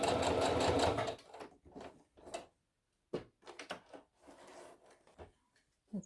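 A sewing machine stitching a homemade fabric face mask: a long loud continuous run of rapid stitching, then a series of short stop-start bursts separated by near silence.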